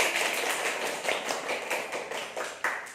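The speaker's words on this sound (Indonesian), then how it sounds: "Beri tepuk tangan untuk diri kita sendiri." Schoolchildren clap their hands together in a classroom during a traditional dance lesson, a steady, fairly close round of overlapping claps with occasional sharper accents, no voices over it.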